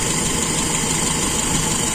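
A motorcycle engine idles steadily up close while the carburetor air screw is adjusted, a continuous loud throbbing rumble with no talk over it.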